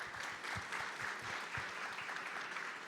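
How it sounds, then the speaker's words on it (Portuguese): An audience at an event for a youth academy gives steady applause, with many hands clapping in a continuous, fairly distant wash that lasts the full three seconds. No one speaks over it. "Palmas mais uma vez para ele aí"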